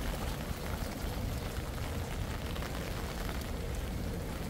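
Rain falling on a street in Incheon's Chinatown, a steady, even hiss of drops spread across the whole stretch, soft and continuous with no voices.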